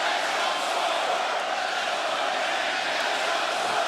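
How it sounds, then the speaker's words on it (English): Capacity crowd of wrestling fans in an AEW arena roaring and chanting together, a steady dense wall of voices that stays loud throughout with no pauses. "The fans have picked their favorite. You hear them chanting it."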